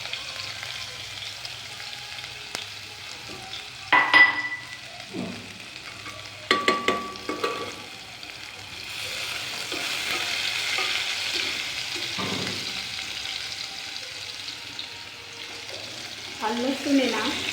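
Garlic and cumin fry in a pan for a green mung bean dish, a soft steady sizzle broken by a few scraping stirs of a spoon against the metal.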